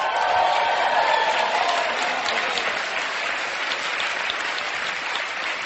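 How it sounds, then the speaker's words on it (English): Seminar audience applauding in a large hall after a motivational speaker's call for a round of applause, with a dense, steady wash of claps and some crowd murmur for several seconds. "Give it a round of applause."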